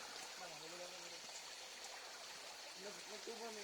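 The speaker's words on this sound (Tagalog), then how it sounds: "May maliit kasi kami ditong ilog. Malamig siya." A small, cold river flows with a soft, continuous trickling rush, while voices talk over it in the foreground.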